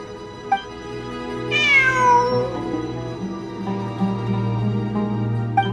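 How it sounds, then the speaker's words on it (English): A cat meows once in the video game Genshin Impact, a drawn-out, falling cry heard clearly over a steady musical background hum. "It really is a cat."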